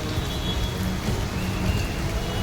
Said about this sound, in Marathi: मुंबईमध्ये मुसळधार पाऊस सुरू आहे